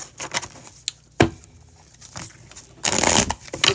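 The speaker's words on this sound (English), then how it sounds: "Just shuffling my cards so we can get ready here." Tarot cards being shuffled by hand during a live reading, giving irregular bursts of riffling and papery slaps with brief pauses between them, close and fairly loud with no talk.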